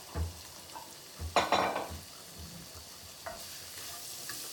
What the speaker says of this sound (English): to let that sherry cook down so we don't have a real strong sherry flavor